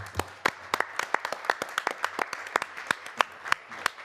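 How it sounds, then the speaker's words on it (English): Sparse, distinct claps from a small audience applauding a parliamentary forum panel, individual hand claps ringing out at an irregular pace, fairly close and without talk. "I think we give the panel applaud."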